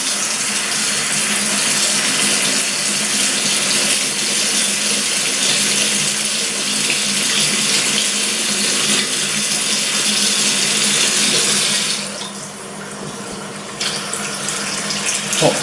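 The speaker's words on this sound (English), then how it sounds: "So again, to run the water," In a staff bathroom, a cold water tap runs steadily with a loud, even hiss of water into a basin, easing slightly near the end.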